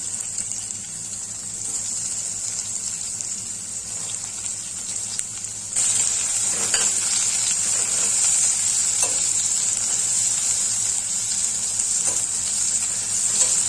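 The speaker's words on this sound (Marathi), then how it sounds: "तेलामध्ये थोडंसं जिरं, त्यामध्ये कांदा भाजलेला," Onion sautéing in oil with cumin, stirred in a pan, a steady close sizzle that grows louder partway through, with scraping stir sounds over it and no talk.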